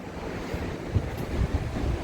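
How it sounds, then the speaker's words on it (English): Ocean surf breaking on an Outer Banks beach, a soft continuous rush with low thuds of waves, heavily mixed with gusty wind buffeting the microphone outdoors. "So you can hear the waves."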